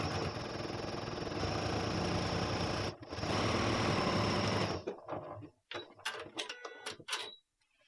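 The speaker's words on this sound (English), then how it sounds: "I'm going to sew right along the fold of the paper" A sewing machine stitching along the fold of freezer paper runs steadily at a fast whir for several seconds, then slows into short stop-start bursts of stitching with pauses between.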